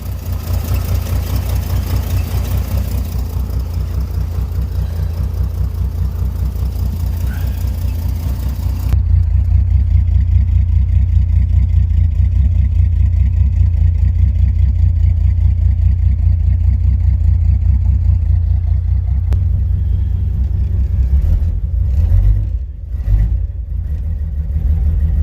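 A Chrysler Slant 6 engine idles roughly just after a cold start, a steady low rumble that stays close and loud throughout, with a slight stumble near the end.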